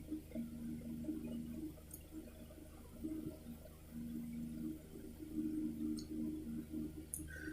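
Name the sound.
water heating on an induction cooker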